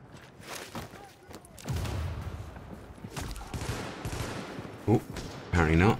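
Automated turrets fire in The Division, sounding as rapid bursts of gunfire mixed with game ambience, with a sharp louder blast near the end and voices talking over parts of it.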